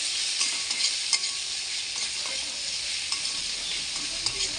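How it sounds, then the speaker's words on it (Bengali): A spice mix of turmeric and chili powder is stirred as it sizzles in a pan, giving a dense, even frying hiss at close range with scattered crackles and light utensil taps, and no voices. "1 চামচ লঙ্কা গুঁড়ো দিয়ে মশলাটাকে মিক্স করে এবার মিক্স করে নেব"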